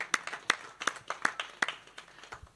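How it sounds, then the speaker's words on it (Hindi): Scattered hand claps from an audience at a Holi festival poetry and folk-song gathering, a thin, uneven patter of individual claps that tapers off near the end. "आप लोग एक बार जोरदार तालियां बजा दीजिए।"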